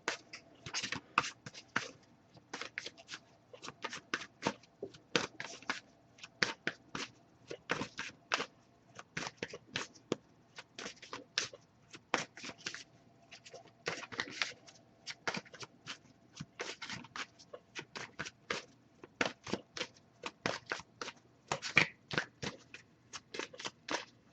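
Oracle cards are shuffled continuously at close range, a long run of rapid riffling bursts and papery slaps in an irregular rhythm, with no talk over them.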